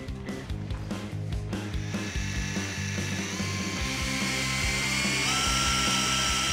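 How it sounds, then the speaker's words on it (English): A power drill with a taped 5/16 drill bit bores holes in the roof of a Toyota 4Runner, its close motor whine rising and steadying over several seconds. "I'm using a piece of tape on my 5/16 drill bit as a drill stop."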